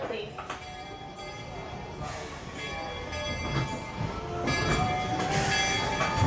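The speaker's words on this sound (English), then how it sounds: "You hear that whistle from the train" A Walt Disney World Magic Kingdom ride train rumbles along with clattering wheels while a whistle sounds in sustained tones, growing louder toward the end; a voice speaks faintly underneath.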